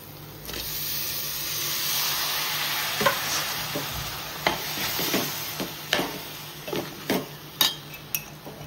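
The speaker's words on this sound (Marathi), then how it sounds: "आता आपण याच्यामध्ये तांदूळ टाकूया." Basmati rice is tipped into cooked biryani spices in a pot and stirred, a soft pouring rush followed by a run of metal spoon scrapes and clinks that grow sharper and more rhythmic over a light sizzle.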